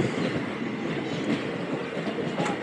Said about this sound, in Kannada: ಇದು ಎರ್ನಾಕುಲಂ ಎಕ್ಸ್ಪ್ರೆಸ್ಸು, ನಮ್ಮ ಬೆಂಗಳೂರಿಂದ ಎರ್ನಾಕುಲಂವರೆಗೂ ಹೋಗ್ತಾ ಇದೆ.